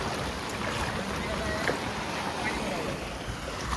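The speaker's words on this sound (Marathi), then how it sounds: "पूर्ण वाहता पाणी आहे. पाणी घेऊन चालला पूर्ण." Heavy rainwater rushing in a strong, continuous flow during monsoon flooding in Vasai, a loud broadband roar with no pauses, close by.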